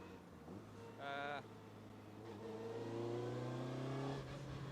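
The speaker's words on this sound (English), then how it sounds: "Oh, listen to that, viewers. Straight cut gearbox from Quaife." A Lotus S1 Sport 190 with a Quaife straight-cut gearbox drives along, its engine droning and rising in revs with gear whine, heard from inside the car at moderate level, with a brief higher tone early on.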